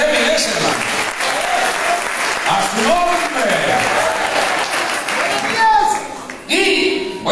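A church congregation bursts into sustained applause during a sermon on marriage, dense clapping close by, with a voice speaking briefly over it near the end.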